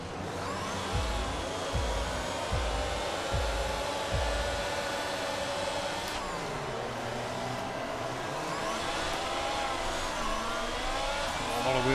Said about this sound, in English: Wheel spin there.